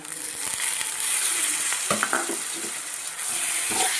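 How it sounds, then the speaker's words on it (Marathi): Toor dal goes into a pan of frying onion and spice, raising a loud, steady sizzle with a few close scraping stirs and knocks against the pan. "आता टाकायचं आहे ह्याच्यामध्ये ही तूर डाळ."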